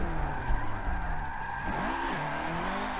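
Nissan S13 engine in Forza 7 revving steadily while drifting, a continuous mid-pitched drone with rising and falling pitch sweeps as throttle is held, alone with no talk.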